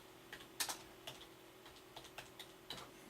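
Keystrokes on a computer keyboard, a sparse run of soft clicks and taps at an uneven pace, quiet and close, with no talking.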